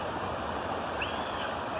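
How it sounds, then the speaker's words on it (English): Creek water splashes and cascades around a person's feet, a steady close rushing wash with no talk over it. "feel the water as it cascades around my feet"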